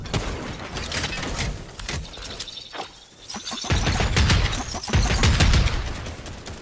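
Gunfire rings out in the video game Fortnite as dense, noisy bursts and crashing impacts, loud and busy, with a brief lull in the middle before the shooting and clatter pick up again.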